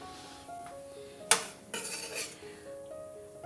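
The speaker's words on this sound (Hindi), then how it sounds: "मैं कुकर का ढक्कन खोलकर देखती हूँ" A pressure cooker lid opened after cooking rajma: one sharp metallic clank followed by a brief rush of released air and softer pot and lid rattles in a kitchen, with no one talking.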